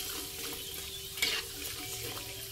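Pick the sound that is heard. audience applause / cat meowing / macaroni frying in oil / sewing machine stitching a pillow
macaroni frying in oil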